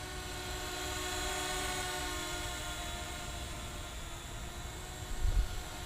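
A small JJRC Elfie toy selfie drone hovers steadily, its tiny propellers giving off a continuous high-pitched buzzing whine with a thin rushing hiss, fairly close and even in level throughout.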